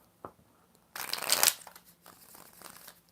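Tarot cards riffle-shuffled in a loud burst of crisp flutter lasting about half a second, after a single soft tap, then trailing into quieter card handling and light rustles.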